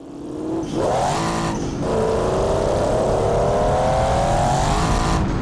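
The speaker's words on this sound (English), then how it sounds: "I love the turbo when it kicks in." A turbocharged 1970s GT car engine in the BeamNG driving game revs hard and loud, its pitch sweeping up, dropping briefly on a shift, then climbing steadily again with no talk over it.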